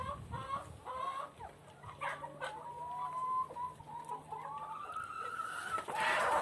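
Chickens cluck and call in a steady, overlapping chorus, with a rooster-like drawn-out note rising above, set against constant outdoor background noise.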